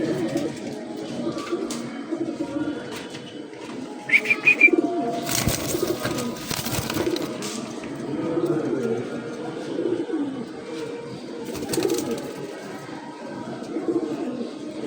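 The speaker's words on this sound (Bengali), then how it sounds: "ক্লাবের কবুতর জোড়াটা।" Fancy club pigeons in a pair coo softly in a loft while someone talks over them, with brief higher chirps and some handling noise in between.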